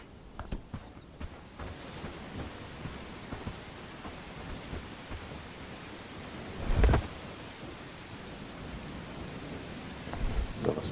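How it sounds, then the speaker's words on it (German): Steady hiss of rain falling in the video game Bellwright, broadband and continuous, with a louder rumbling burst partway through and another toward the end. "Okay, jetzt regnet's."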